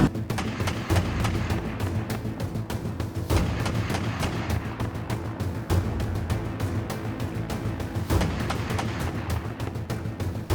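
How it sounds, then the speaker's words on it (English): Dense, continuous gunfire from a US Marine LAV's 25mm cannon pounding a Taliban mud-hut position in a combat scene, with sharp bursts and heavy booms layered over a constant battle din, loud and close throughout. "The American LAV starts tearing apart the Taliban position with its 25mm cannon."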